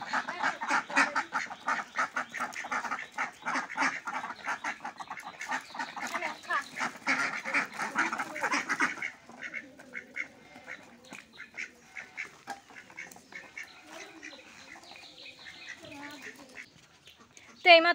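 Ducks and other fowl in a Bengali village yard quack and honk loudly in a dense chorus while being fed, busiest in the first half and thinning to scattered calls; a voice speaks near the end.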